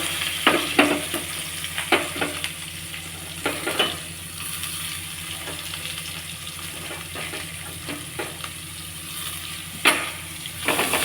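Finely chopped onion fries with curry leaves in a pan, a steady low sizzle punctuated by sharp spatula taps and scrapes in irregular bursts, close up and without speech.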